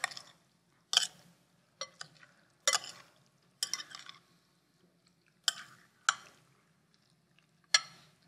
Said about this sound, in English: we'll gently stir this together so that the avocado doesn't break up